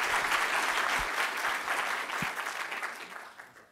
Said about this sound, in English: Can you please give applause to my guests?